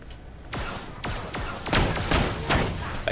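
Explosive rounds fired from a Scav assault rifle with a Torg barrel in Borderlands: The Pre-Sequel, a steady run of about seven heavy, booming shots roughly every half second, each with a sharp crack and a rumbling tail, loud and close.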